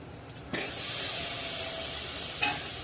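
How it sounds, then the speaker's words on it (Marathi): Jitada fish hits a hot pan of spices and erupts into a loud, steady hiss of sizzling that continues to the end, with a brief stirring clink near the close. "जिताडा घालून गेल्यानंतर त्याला एक दोन मिनटं आपल्याला परतायचं आहे"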